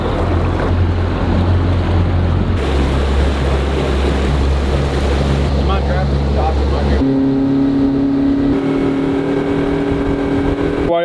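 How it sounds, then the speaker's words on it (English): A generator runs aboard a bowfishing boat on a lake, giving a steady mechanical drone with low humming tones that shift pitch a few times, alongside wind and water noise throughout. "Generator's going."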